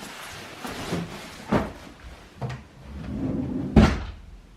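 A drawer is opened in a home, with a few separate knocks and wooden slides followed by a louder final scrape and thump, close by and with no talking.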